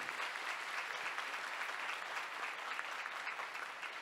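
Audience at a university graduation ceremony clapping steadily, an even wash of applause from a sizable crowd heard at moderate distance without speech.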